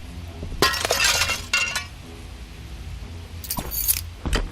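Thin glass shatters in the Shadows of Doubt video game, two loud crashing bursts of breaking and tinkling shards separated by a quieter pause, with clinks trailing after each break.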